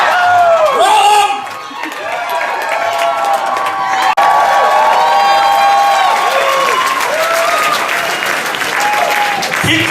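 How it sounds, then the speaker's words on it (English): Audience at a Halloween film world premiere clapping loudly and steadily, with whoops and cheers rising over the dense applause and voices calling out in the crowd. "Keep clapping."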